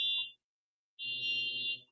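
A neighbour's alarm sounding outdoors, heard as two shrill electronic beeps: a short one, a pause, then a longer tone of nearly a second, moderately loud with no one talking.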